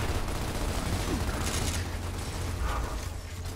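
Gunfire in the video game Gears of War Ultimate Edition, a dense continuous rattle of automatic shots mixed with mechanical clatter, loud and unbroken throughout.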